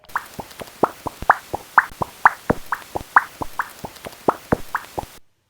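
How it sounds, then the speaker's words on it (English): A Leisler's bat's echolocation call comes through a bat detector as a quick, regular series of about twenty crisp chips and plops, alternating slightly in pitch, close and clear with no voices. "Liseless bats have a similar call, but a lot more chips than chops come through, making it sound more like this one."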